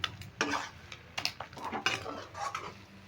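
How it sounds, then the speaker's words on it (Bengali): Khesari greens mixed with rice flour are tipped into a pot, giving a quick run of metallic scrapes and clinks of a utensil against cookware. "এবার আমি একটা পাত্রে ঢেলে নিচ্ছি"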